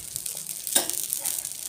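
Oil sizzles under a rice dosa on a hot pan, a steady close hiss with a brief louder burst as the oil is added, with no talk.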